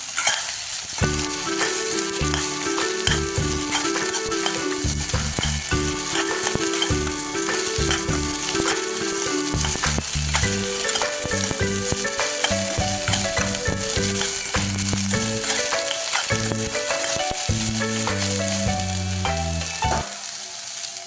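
Ridge gourd pieces frying and sizzling in a pan as they are stirred, a steady bright hiss running throughout beneath loud, continuous background music, with no talking.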